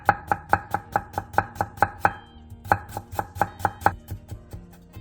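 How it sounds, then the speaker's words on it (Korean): A knife julienning carrot on a cutting board, with steady rapid chops in two bursts of about ten evenly spaced strikes each, close and crisp, with no speech. "당근 3장을 반으로 자른 뒤 짧게 채 썰어주세요"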